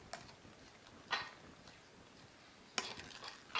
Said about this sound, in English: now you're gently going to stir this mixture around with this spoon until it's well combined